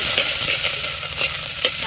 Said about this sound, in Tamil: காய போட்டு நல்லா கிளறி விட்டுருவாங்க